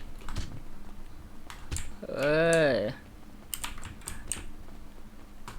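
Keyboard keys tapped in a three-beat rhythm while playing GTA V FiveM on Windows 11, a run of light clicks around a louder tonal game sound, with someone speaking over it.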